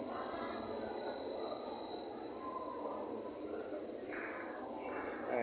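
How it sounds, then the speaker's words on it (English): An Intercity Express train pulls into Duisburg station with a rumbling roll and high, drawn-out wheel squeals. The sound rises slightly toward the end, with faint station ambience around it. "Yes, guys, my train come now. You can see my train is here now."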